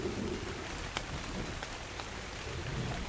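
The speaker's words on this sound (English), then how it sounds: "But it's raining anyway" Steady rain in the survival game Ark, a dense, even hiss of falling drops that fills the whole stretch at moderate level with a few faint ticks of individual drops.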